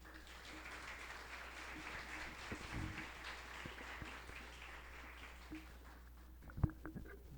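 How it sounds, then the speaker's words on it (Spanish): Audience applause welcoming panelists at an evening public lecture on community memory of armed conflict: a fairly soft, steady patter of clapping that lasts several seconds and then thins out toward the end. "Recibámoslos por favor con un aplauso."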